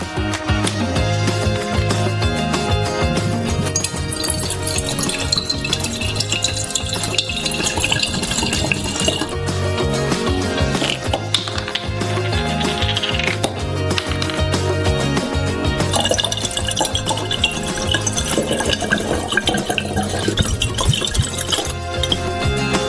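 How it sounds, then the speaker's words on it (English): Alcohol pours continuously into a glass flask, a steady gurgling fill with occasional glassy clinks, loud and close throughout. "we will pour 2 bottles of alcohol into it"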